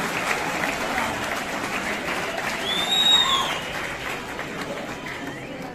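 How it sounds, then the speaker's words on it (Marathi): A college event audience applauds at a lamp-lighting ceremony, with sustained dense clapping from a large crowd throughout, swelling slightly in the middle, while faint voices sound over it. "जोरदार टाळ्या वाजवून परत स्वागत करायचं सगळ्यांच्या परत"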